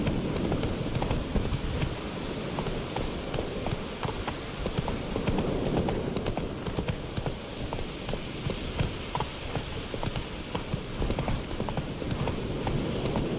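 Roach, the horse in The Witcher 3 on PS5, runs with a rapid, rhythmic clip-clop of hooves over continuous ground noise, loud and close throughout with no talking.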